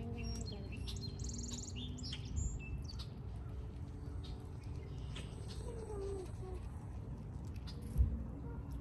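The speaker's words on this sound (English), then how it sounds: "Look, the birds." Small birds chirp and tweet intermittently in the woods, faint and scattered over a steady low outdoor rumble, with a brief thump near the end.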